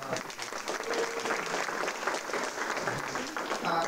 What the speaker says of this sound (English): round of applause to our chairwoman of the Democratic City Committee